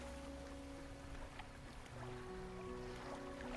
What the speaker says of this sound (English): Your engine. It sounds like...